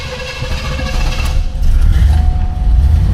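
Cold start of a 1979 Cadillac Deville Phaeton engine: a mechanical whir of cranking that catches and swells into a loud, close idle rumble with a slight rev.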